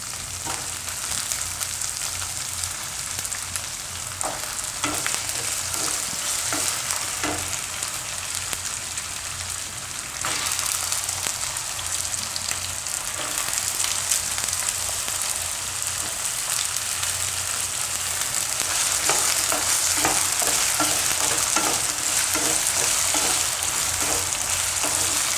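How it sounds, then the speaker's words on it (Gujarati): Potatoes sizzle and fry in hot oil in a pan for aloo matar paneer, a loud steady crackle with scraping stirs now and then, running without talk. "તો થોડીક વાર તેલમાં આ રીતે ફેરવી દેવાનું। હવે આપણે એમાં બટેટા નાખી દઈએ।"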